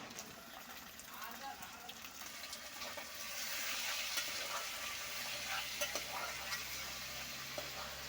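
Raw prawns sizzling and frying in oil in a pan while being stirred, a steady hiss that swells midway, with a voice talking faintly in the background.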